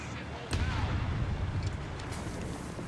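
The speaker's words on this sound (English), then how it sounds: "Bombs going off there." Bombs explode in the Company of Heroes 3 strategy game, one sharp heavy blast followed by rumbling aftershocks and a few softer thuds, under a commentator's voice.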